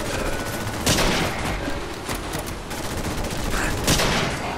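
Gunfire from a weapon in the video game Fallout 4, with rapid repeated shots forming a loud, dense fusillade that continues throughout.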